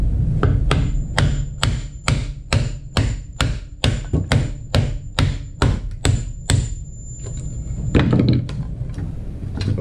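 Hammer blows on a molded carbon-fibre wing trailing edge to release it from the mold, about sixteen sharp, loud, evenly spaced strikes in a steady rhythm, pausing briefly near the end before a final few hits.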